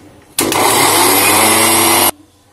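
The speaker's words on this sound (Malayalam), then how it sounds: "ഒന്നുകൂടെ അരച്ചെടുക്കാം" A mixer grinder whirs loudly and steadily for under two seconds while grinding dry fish chutney, starting and stopping abruptly against a quiet room.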